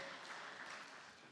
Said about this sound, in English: Please a round of applause for Dr. Ulrich Eichhorn as he comes forward for his presentation.